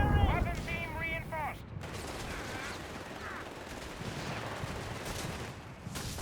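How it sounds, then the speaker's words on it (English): Artillery barrage in Company of Heroes 3, a continuous rumbling din of distant impacts and battlefield noise, with short voiced game callouts early on. "Is that zeroing artillery over here?"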